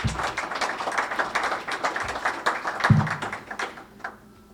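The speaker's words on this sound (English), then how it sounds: "So a round of applause for our sponsor, please." Scattered clapping from a modest audience at a club event with a political panel discussion, a spread of sharp hand claps that rises and then thins out toward the end.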